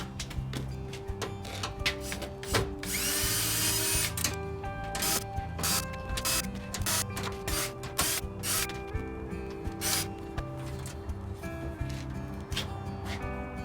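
Power tool spinning out 10 mm bolts from the interior liftgate panel of a 3rd gen Toyota 4Runner, a steady close whirring with repeated short bursts and stops, no talking.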